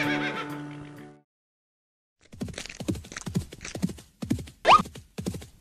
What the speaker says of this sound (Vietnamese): Trời ơi, là đàn ngựa thần.